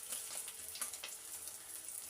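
Faint, soft sizzle of shing fish (stinging catfish) frying in a pan, a steady low crackle with small pops throughout.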